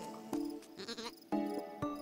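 Sheep bleat in a video game called Carto, several separate calls over a looping background tune, fairly loud and close, with no talking.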